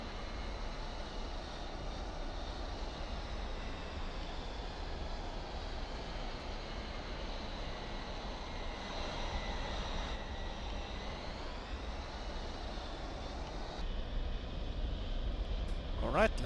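A Mirage F-1 jet taxiing in a flight simulator, its engine a steady droning whine that holds constant, then shifts pitch slightly as the aircraft turns, no voices over it.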